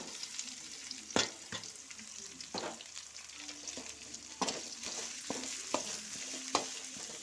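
Chicken sautéing in a pan for a fried chicken dish, a soft steady sizzle with occasional sharp taps of a spoon against the pan, faint and close.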